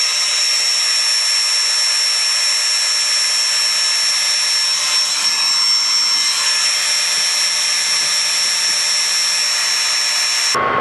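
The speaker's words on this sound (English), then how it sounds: "right now we got the lathe running at 295 RPM" A metal lathe turning at about 295 RPM runs steadily and loudly, a continuous machine hum and whine with no talk, stopping abruptly at the very end.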